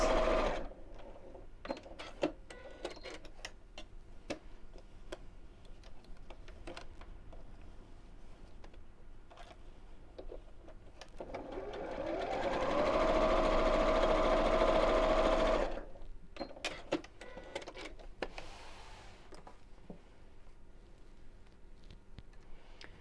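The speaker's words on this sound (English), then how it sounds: "I'm just going to sew within the seam allowance across these folds as well" A sewing machine stitches within the seam allowance across the folds of a fabric wallet, a low, steady mechanical run of about four seconds standing out between quieter handling clicks and rustles.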